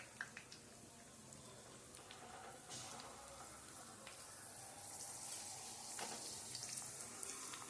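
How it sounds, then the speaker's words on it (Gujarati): Soft, steady sizzling and crackling of vada pav frying in hot oil, fairly quiet and continuous, with faint clinks now and then. "હવે આપણે આ ઉલટા વડાપાઉં તળવાના આખે આખા"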